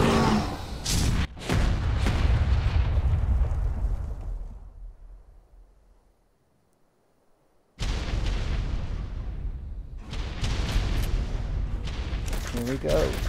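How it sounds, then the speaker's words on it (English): Cruise missile explosions in a combat video game, a run of loud, dense booms and blasts close up for several seconds, fading to near silence, then another barrage of heavy explosions bursts back in. "Cruise missile incoming."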